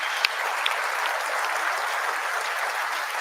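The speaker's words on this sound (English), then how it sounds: "give yourselves a round of applause" Auto plant workers at Kentucky Truck Plant applaud in a steady, dense burst of clapping from a large crowd, with a few sharper individual claps standing out.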